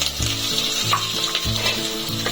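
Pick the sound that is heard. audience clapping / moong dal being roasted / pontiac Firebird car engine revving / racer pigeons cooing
moong dal being roasted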